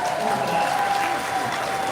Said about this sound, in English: Give her some more applause there.